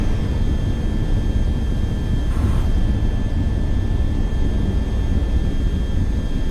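A jet aircraft in VTOL VR takes off from an airbase with a constant loud roar of engine and rushing air that holds steady throughout, a dense broadband drone with no voices.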